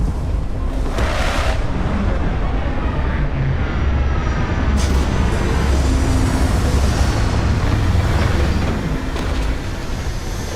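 A spaceship touching down in Starfield: a steady, loud roaring rumble of engines that stays dense throughout, with a sharper whoosh partway through and no talk.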